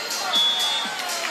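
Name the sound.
loud crowd at beach volleyball tournament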